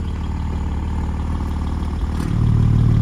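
A 2021 Porsche 718 GT4 idles through an exhaust fitted with an aftermarket valve controller, a steady low rumbling drone that grows deeper and louder near the end as the valves open, with no talking.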